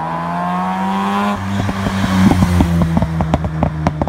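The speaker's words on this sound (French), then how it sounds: "son moteur rotatif montait dans les tours comme une essoreuse à linge. Elle fait vraiment un bruit ridicule." An RX-7 FB sports car's rotary engine hums steadily, then breaks into a rapid, rattly revving with sharp repeated pulses, loud and close.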